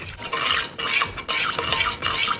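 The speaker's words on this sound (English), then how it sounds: "We're gonna go ahead and get this all whisked together." Whisking a whiskey steak marinade with parsley in a bowl, giving quick, close, rhythmic scraping and clinking strokes in bursts with short pauses, no voices.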